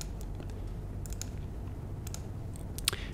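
Mouse clicks mark points on x-ray images in Posture Ray analysis software: sparse small sharp clicks spaced irregularly over a faint steady room hum, close but quiet, with no talking.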